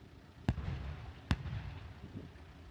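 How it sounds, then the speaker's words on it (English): Two sharp, heavy booms of artillery shelling in besieged Mariupol strike about a second apart, each ringing out with a low rumble over a quiet background. "a population that is besieged by these heavy artillery pieces"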